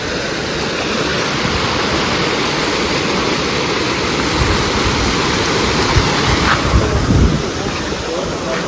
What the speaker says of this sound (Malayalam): ഒരു ചെറിയൊരു വെള്ളച്ചാട്ടമുണ്ട്.